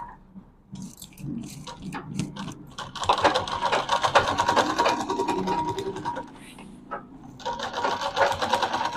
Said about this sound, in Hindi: तो हम इसको इस तरह से करके अब हम सिलाई लगा देंगे।